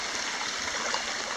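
Feeder creek water pouring steadily from a manhole outlet in a flooded creek, a continuous close rushing and trickling wash with no pauses or voices.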